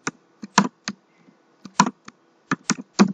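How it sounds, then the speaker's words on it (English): Someone types on a computer keyboard in short irregular bursts of crisp, close key clicks with brief pauses between them. "If we type here dot mean"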